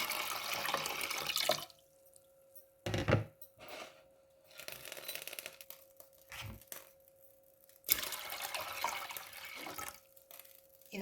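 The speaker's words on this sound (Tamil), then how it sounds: "இப்போ நான் தண்ணி விட போகிறேன்" Water is poured into a cooking pot while preparing suusiyam, in several splashing bursts separated by quiet pauses, with faint clinks between pours.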